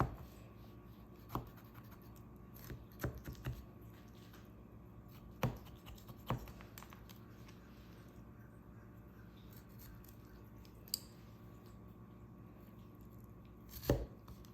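A knife pierces holes in a generously seasoned raw pork joint, faint sharp stabs and scrapes coming in scattered bursts against a quiet kitchen.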